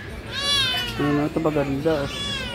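A cat meows several times, drawn-out and whiny, close by, while a person talks over and between the cries, at Arranque Market in Manila.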